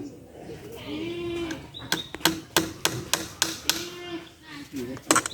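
Nails are hammered into wooden posts with a run of sharp, ringing blows, roughly one every third of a second, up close, while people talk and call out around them.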